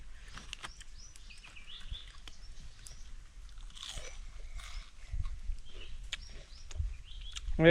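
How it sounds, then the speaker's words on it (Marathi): Someone outdoors chews crunchy deep-fried Fish 65 made at a fishing spot, with close, quiet crisp bites and crunches spread through the clip over faint background chirps. "जो डीप फ्राय केलाय ना त्याच्यामुळे अख्खा तो कडक झाली ना एकदम खायला मजा काटं बिटं काय नाही एकदम चावून खायचा"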